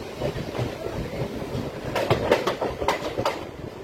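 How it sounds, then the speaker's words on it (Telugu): A Vijayawada to Guntur MEMU train rolls along after leaving Krishna Canal Junction, with a steady rumble and a run of sharp wheel clicks over rail joints, heard close from onboard. "మన ట్రైన్ అయితే కృష్ణగనాల్ జంక్షన్ నుండి అయితే బయలుదేరిపోయింది"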